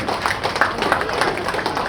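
Audience clapping at a Tamil debate held at the Dharmapuri book fair, a continuous dense patter of applause filling the hall, with crowd noise and voices mixed in beneath it.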